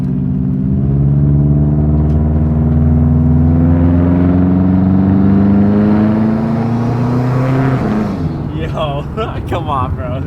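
Turbocharged engine of a 2002 Subaru WRX accelerating uphill, a loud close rising roar that climbs steadily in pitch for about eight seconds before easing off, with faint voices near the end.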